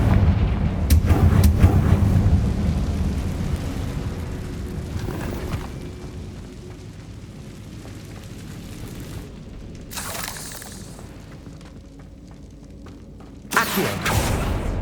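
Confringo blasting spell exploding in the Hogwarts Legacy video game, a heavy boom at the start that rumbles and fades into a low roar, followed by sharp crackling bursts later on.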